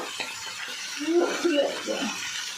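Vegetable stalks being stirred in a cooking pan, soft scraping and rustling strokes with faint sizzling, a few brief metallic scrapes in quick succession, close and quiet.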